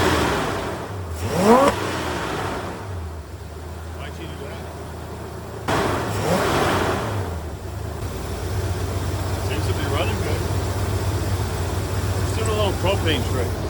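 A car engine fitted with Holley Sniper fuel injection revs up twice in quick swells, then settles into a steady raised idle hum, close by, with people talking over it.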